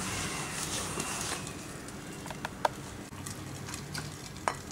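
Rava cake batter with sugar is mixed in a bowl, soft wet stirring strokes with a few light clicks of the spoon against the bowl, fairly quiet.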